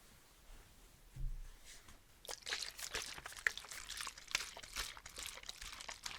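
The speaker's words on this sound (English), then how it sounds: "now you can use some hairspray." Hairspray misted onto styled hair in a quiet 18th-century-inspired hairstyling session, heard as a run of short, close, soft hissing bursts after a brief low thump and a moment of near silence.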